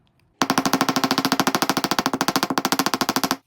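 A hammer's flat face taps rapidly on scrap leather while a wallet is shaped, a steady run of about thirty even, sharp strikes at close range with no talking.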